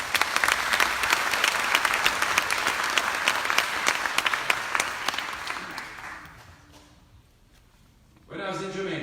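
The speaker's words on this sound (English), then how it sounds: "Let's give them a big round of applause." Audience at the 12th Annual Miss Lou Festival breaks into loud, dense applause that holds steady for about six seconds, then fades out, followed by a brief burst of other sound at the very end.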